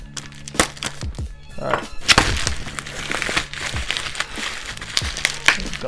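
Packaging around a fragrance box being cut and unwrapped, with bubble wrap and tissue paper crinkling, snapping and rustling up close in uneven bursts, plus a brief spoken remark.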